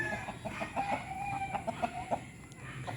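Chickens, laying hens in a rural backyard, cluck in short repeated bursts with a higher drawn-out cackle, moderately close against a low ambient outdoor background.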